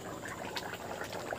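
Curry boiling in a pot, a dense steady bubbling and gurgling with soft pops throughout, moderately quiet and continuous with no voices.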